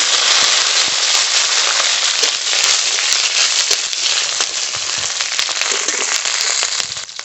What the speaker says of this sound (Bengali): আপনার জন্য ফরন করে নেব তেল রাঁধুনি রসুন কাঁচা লঙ্কা